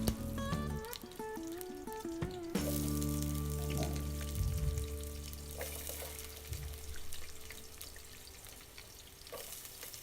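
Green chillies and onions dropped into hot oil in a pan for Andhra-style chicken pulao, giving a continuous crackling fry with some clanks and splashes near the start, moderately loud and with no talk.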